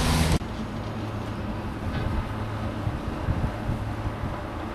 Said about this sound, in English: Coal train.